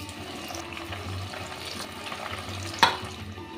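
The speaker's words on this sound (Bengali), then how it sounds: "লো টু মিডিয়ামে করে এবার দুধগুলো আমি ভেজে নেব" Pieces of set milk dough fry in a pan over low to medium heat, giving a quiet, steady sizzle with a low hum beneath it and one sharp clink near the end, with no talk.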